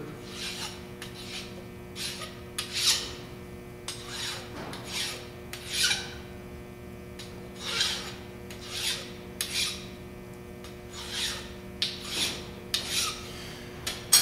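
Hand file deburring the edge of a freshly machined metal part on a vertical mill, a series of about a dozen short, rasping strokes in steady rhythm, close and fairly loud with a faint machine hum underneath.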